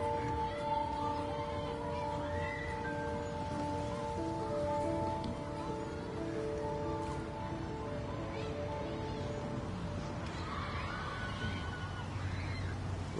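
Steady rain patters in the video game Heavy Rain, a soft continuous hiss of drops on surfaces beneath faint tonal background music.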